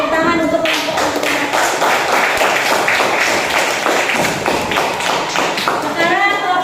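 Students in a classroom break into a burst of clapping, a dense patter of many hands that fades near the end, with voices talking over it.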